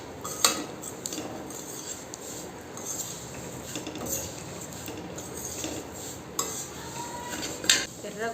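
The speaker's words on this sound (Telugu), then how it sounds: "ఇవి ఇట్లా వేసుకుంటే కలుపుతూనే ఉండాలి అక్క." Spoon scraping and clinking against a metal pot while payasam is stirred continuously, a steady near clatter with a few sharper knocks and no talk.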